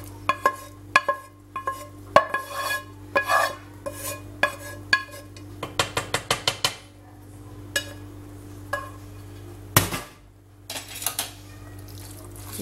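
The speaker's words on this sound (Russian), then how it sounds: "хорошо перемешиваем" Pasta with minced meat and a generous dressing being stirred in a pan, giving a run of irregular clinks and scrapes of a utensil against the pan, clustered in quick bursts with short pauses, close and fairly quiet.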